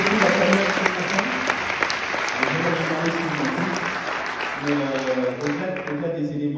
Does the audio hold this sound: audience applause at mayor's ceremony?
yes